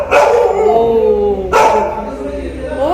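A dog barks twice up close, loud sharp barks spaced about a second and a half apart, with a voice faintly present.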